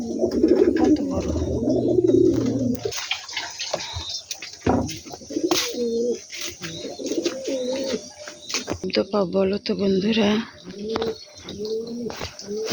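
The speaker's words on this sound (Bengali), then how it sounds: "কবুতর" Pigeons coo in repeated low, throaty phrases close by outdoors near a flowering plant, with a few birds chirping, while a person briefly talks over them.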